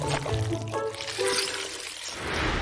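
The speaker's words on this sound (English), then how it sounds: "Here's some water to make cleaning the board easier!" Water poured onto a board to help clean it, a continuous close splashing pour with bubbling and trickling tones that persists throughout, no talk.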